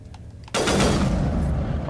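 Turrets in Mass Effect open fire abruptly after a quiet lead-in, giving a loud, dense stream of rapid shots that keeps going to the end.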